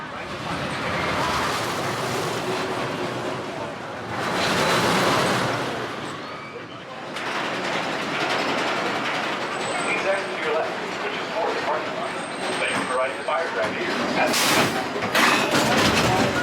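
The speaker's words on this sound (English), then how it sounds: "I'm gonna end things out with one last ride, which is gonna be Colossus the Fire Dragon." Riders on Colossus the Fire Dragon, a Schwarzkopf roller coaster at Lagoon, make up a loud, continuous roar of wind and track rumble that swells and fades through the ride, with screams or voices mixed in.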